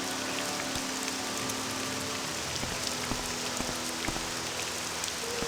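Steady rain patters outdoors in the video game Morrowind, a soft continuous hiss of drops on surfaces with faint scattered ticks, gentle and unbroken throughout.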